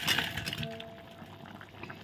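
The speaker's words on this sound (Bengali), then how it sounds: "বড়ার রসাটা ভালো করে ফুটে গেছে।" Banana flower fritter gravy bubbling in a pan, a soft steady simmer with faint liquid burbles and a light clink near the start, quiet and close with no talk.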